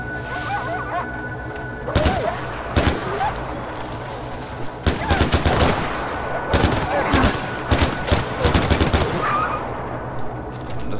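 Gunfire rings out in Far Cry 4, with bursts of rapid automatic fire and single loud shots clustered over several seconds. A voice talks faintly in the background.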